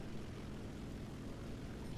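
A Ki-43 III propeller fighter climbs at altitude in the War Thunder video game, its engine a faint, steady low drone with no break.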